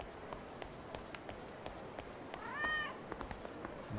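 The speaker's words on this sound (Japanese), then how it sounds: "猫。" A cat meows once in the Yakuza 0 video game, a short rising-falling call heard partway through over soft, regular tapping footsteps and quiet ambient background.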